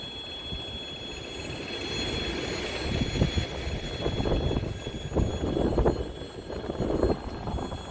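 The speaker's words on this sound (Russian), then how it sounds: "Поезда, конечно, туда-сюда постоянно." A train passing on the Tuapse-Adler railway by the Black Sea coast, a rumbling, clattering rush that builds and swells over a steady background hum, fairly near and continuous.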